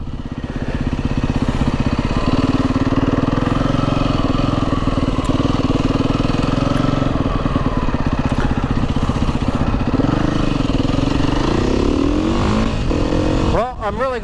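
A motorcycle engine drones loudly and close for a long stretch, its pitch holding steady then rising in a rev near the end as the rider attempts wheelies, with a voice talking over the engine noise.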